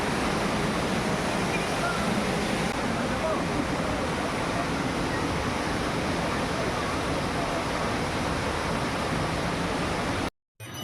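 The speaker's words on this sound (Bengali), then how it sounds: "ওয়াটারফলসটা দেখো বিশাল ফোর্সে পড়ছে, অনেকটা উঁচু থেকে পড়ছে জলটা।" A large waterfall with water plunging from a great height and heavy force, heard from close by as a loud, steady roar that fills the clip and cuts out briefly near the end.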